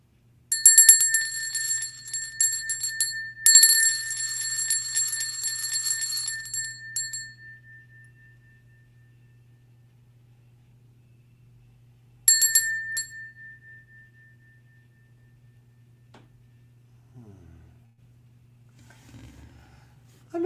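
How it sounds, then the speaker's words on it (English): A mindfulness bell rung at the start of a meditation group, two clear metallic strikes several seconds apart, each ringing out and slowly fading into near silence, with a low steady hum beneath. "Enjoy the sound of the bell."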